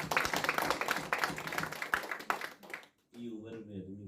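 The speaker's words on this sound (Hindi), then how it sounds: "एक जोरदार ताली बजाकर इनको आशीर्वाद" An audience at a Shiv Katha religious gathering in Auckland claps loudly for about three seconds, then the applause stops abruptly and a voice begins speaking.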